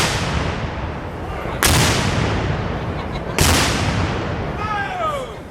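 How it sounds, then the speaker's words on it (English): Three heavy booming cannon shots fire at roughly even intervals at a heritage festival, each blast ringing out loudly and decaying into a long rumbling echo. "Guns ready to fire."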